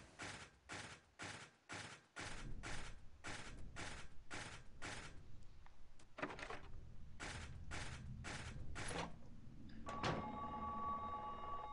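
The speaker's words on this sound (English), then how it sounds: "There's another phone ringing." A telephone rings in Silent Hill 3, giving repeated evenly spaced bursts of bell ringing that pause briefly, start up again, and then break off. The ringing is loud and steady over a low ambient background.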